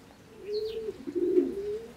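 A champion racing pigeon coos while held in hand, low throaty murmurs rising and falling over about two seconds, close and fairly quiet, with a faint higher chirp early on.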